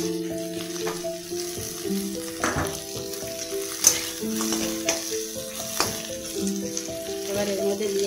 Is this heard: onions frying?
yes